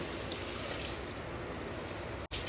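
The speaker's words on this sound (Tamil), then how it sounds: "இந்த தேங்காய் பாலை விட்டுக்கலாம்" A steady stream of coconut milk pouring into a pot, a continuous splashing trickle that cuts off abruptly near the end.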